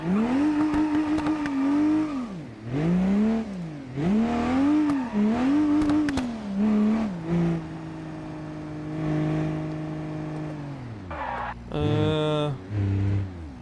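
A car engine in BeamNG revs up and down in repeated surges, then settles to a steady drone with a late squealing burst. Voices talk over parts of it.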